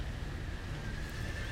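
A horse neighs somewhere nearby in a Game of Thrones video game scene, a steady brief whinny set over a continuous low ambient rumble, with no talking.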